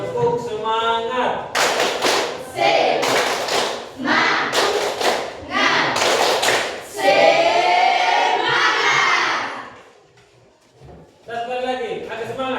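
A group doing a rhythmic cheer clap together, bursts of sharp synchronized claps alternating with loud shouted chanting voices, close and energetic, with a brief quieter pause near the end.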